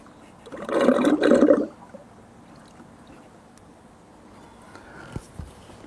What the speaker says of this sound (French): Donc, j'ouvre le robinet.